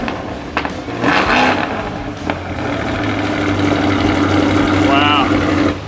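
Idling after a cold start, a 2025 Corvette ZR1 engine gives a close, throaty low drone that holds steady throughout while people talk over it.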